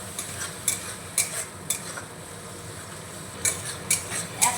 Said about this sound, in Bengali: ভালো করে নাড়িয়ে মিশিয়ে নিচ্ছি